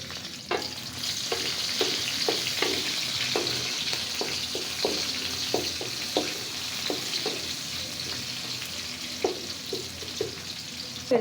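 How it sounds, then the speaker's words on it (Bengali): Steady sizzle of onion and garlic frying in hot oil, with a series of light clinks and stirring taps scattered across it; no talking. "এখানে খুদের ভাতের জন্য আমি পরিমাণ মতো তেল দিয়ে দিলাম আর দিয়ে দিব পেঁয়াজ রসুন"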